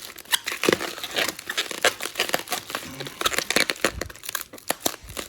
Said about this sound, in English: this one's the same sticker, so I don't mind tearing that one up a bit